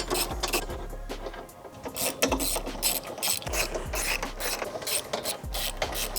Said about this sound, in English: a 15 millimeter socket with a ratchet, and we are going to remove the factory brace